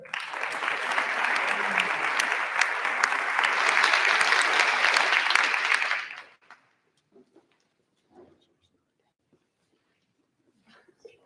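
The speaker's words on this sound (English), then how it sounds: "You go ahead and give him a hand clap." An audience applauds an award recipient at a high school senior academic awards ceremony, a steady, dense burst of clapping lasting about six seconds before cutting off into near silence with faint scattered noises.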